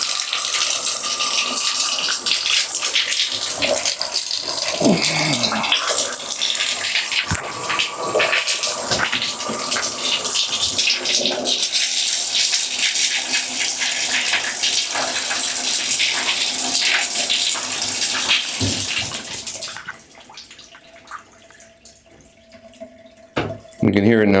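Water gushes loudly down a newly unclogged bathtub drain in a steady, splashy rush for about twenty seconds, then drops away to quieter gurgles and drips, with a voice talking at times.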